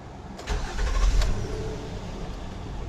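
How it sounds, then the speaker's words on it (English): A Honda Odyssey minivan engine cranks and catches, making a short burst of close starter and engine noise that settles into a steady idle rumble. The van had just had its oil pan replaced. "Please start the engine."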